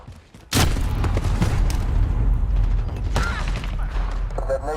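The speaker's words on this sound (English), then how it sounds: "Detonation is good." A heavy explosion goes off in Call of Duty: Modern Warfare (2019) multiplayer, a sudden loud boom followed by several seconds of rumbling debris and clatter, with some faint radio chatter toward the end.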